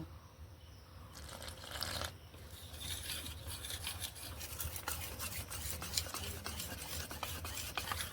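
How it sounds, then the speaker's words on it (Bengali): Batter of red chili sauce, salt and a little water for chicken satay is stirred in a bowl, giving a quiet, close, continuous rubbing and scraping swish with rapid rhythmic strokes and no talking. "অল্প অল্প জল দিয়ে ব্যাটারটা বানিয়ে নেব"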